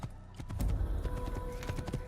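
Horse hooves clip-clop in a quick irregular rhythm in an Assassin's Creed video game, with a brief whinny mixed in, moderately loud and close with no talking.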